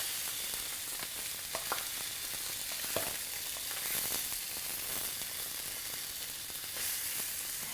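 Salmon fillets with olive relish sizzle and spit steadily in a hot, slightly smoking pan as each is flipped, a dense continuous frying hiss with a few soft clicks of turning, close and loud with no talking.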